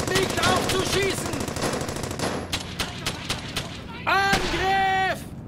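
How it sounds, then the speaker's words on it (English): Dense automatic gunfire and machine-gun bursts from the video game Brothers in Arms: Hell's Highway rattle loud and close, with shouted voices in the mix and a tonal whine near the end. "Hört nicht auf zu schießen!"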